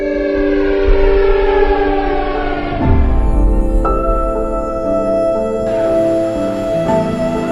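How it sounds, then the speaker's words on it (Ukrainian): Civil defense air raid siren wailing loudly and steadily across the whole stretch, its tone sliding down and rising again, with no talk over it. "повітряна тривога. Просимо терміново прямувати до укриття."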